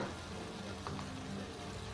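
Red chilli powder sizzles and fries in a pan of mutton curry as it is stirred, a dense, close crackle that runs steadily with a faint scrape of the spoon partway through.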